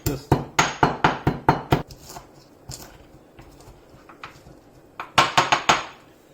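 Mace and nutmeg (javitri and jaiphal) ground for Chicken Lahori, heard as a fast run of sharp, rhythmic knocks and clacks at close range, a pause with scattered taps, then another quick burst of knocking.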